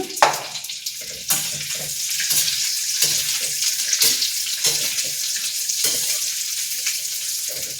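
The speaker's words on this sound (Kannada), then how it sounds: "ಸ್ವಲ್ಪ ಬಾದಾಮು ಮತ್ತು ಗೋಡಂಬಿ ಫ್ರೈ ಆದಮೇಲೆ ದ್ರಾಕ್ಷಿ ಹಾಕಬೇಕಾಗತ್ತೆ" Almonds and cashews frying in hot fat in a pan while preparing a jaggery sweet for the Sankranti festival, a steady loud sizzle with occasional stirring scrapes, no talk.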